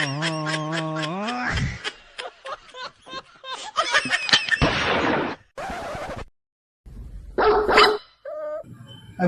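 A dog barks in a quick series of sharp, close barks mixed with laughter and bursts of other comic sounds, with loud stretches and brief silent gaps between them.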